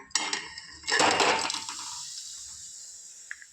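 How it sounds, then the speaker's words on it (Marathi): A mixture of ginger and jaggery is tipped into a metal cooking pot with a sharp clatter of utensil on metal and a wet scraping burst, then the sound trails off into quieter clinks. "आता मी गुळाने आलं मिक्स केलेलं आहे आणि आपण पातेल्यात टाकूया"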